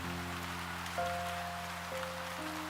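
Rain falls steadily on a graveyard in the game Love and Deepspace, a soft, even wash of drops that continues throughout, with sustained musical tones playing over it.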